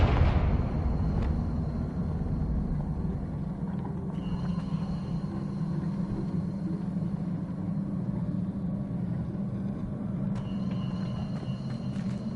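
A Confringo spell explodes in Hogwarts Legacy, a sharp blast at the start followed by a long, heavy rumble that keeps going, with a few fainter cracks later on.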